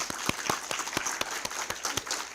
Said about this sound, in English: I would love everyone to give Liza a huge round of applause